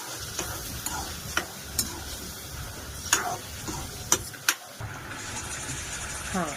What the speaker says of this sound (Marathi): आता हे मस्त तेल सुटेपर्यंत फ्राय करून घेऊया.